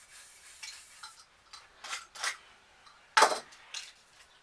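A craft knife scrapes dried paint off a spray paint can cap in short, separate scratchy strokes, several quiet ones and one sharper, louder scrape near the end, close up with no speech.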